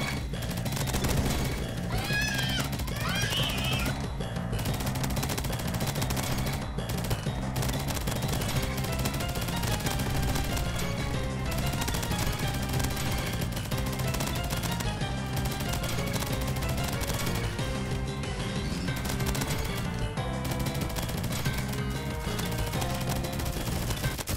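Sustained rapid MP7 submachine gun fire in a video game, dense bursts of shots running continuously over a loud game soundtrack, with brief pauses between volleys.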